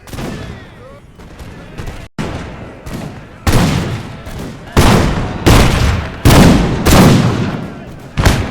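Musket volleys fired by rank in a Total War battle with the Imperial Splendour mod, a series of loud broadband crackling bursts repeating every second or so and building in intensity, with no speech over them.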